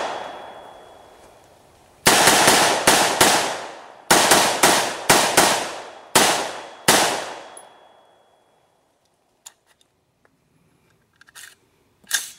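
Gunshots from a gun fitted with a compensator and a heavier barrel crack out loudly outdoors, about eight sharp reports in quick clusters, each trailing off with echo, followed by faint clicks and handling noises.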